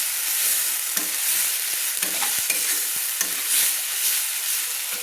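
Tomato masala with salt, for a brinjal and prawn curry, sautés with a bright continuous sizzle and repeated spoon scrapes and taps against the pan, close and fairly loud.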